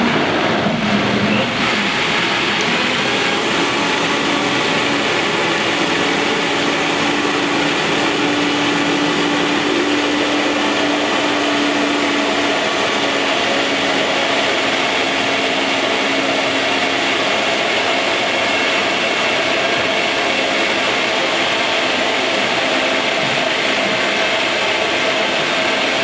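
A blender grinds a thick raw coconut cream pie filling for a full stretch, its steady loud motor whir straining a little under the heavy mixture, with no voices.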